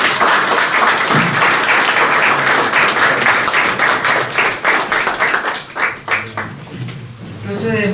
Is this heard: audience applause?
yes